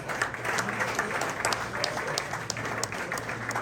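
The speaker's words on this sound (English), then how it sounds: "Give Coach Smith a round of applause." Guests at a basketball tip-off party applaud a coach, a steady round of clapping with individual sharp claps standing out, moderately loud under faint crowd murmur.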